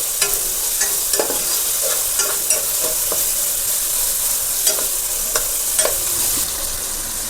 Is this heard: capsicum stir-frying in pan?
yes